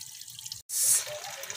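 Water dripping and trickling out of a homemade plastic drum water filter packed with charcoal, a faint steady dribble with one brighter splash, while a person talks nearby.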